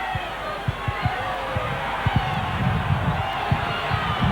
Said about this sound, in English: Crowd beginning to roar.